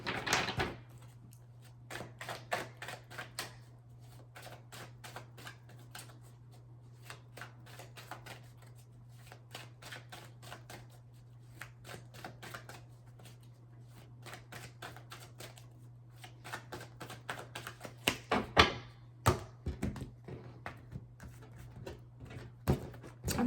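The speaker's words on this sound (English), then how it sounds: "Sometimes I'm like looking at the cards while I'm shuffling" Tarot cards shuffled by hand in a quiet room, a long run of soft riffling and slapping bursts with a low steady hum beneath and louder clustered shuffles near the end.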